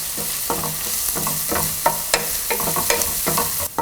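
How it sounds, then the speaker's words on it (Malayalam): Softened onion with two sprigs of curry leaves is sautéed in a pan, a spatula scraping in quick, regular strokes over a low sizzle, close and loud with no voices. "ഇനി ഇതിലോട്ട് നമ്മൾ എടുത്തു വെച്ചിരിക്കുന്ന 2 തണ്ട് കറിവേപ്പിലയിട്ട് വഴറ്റുക."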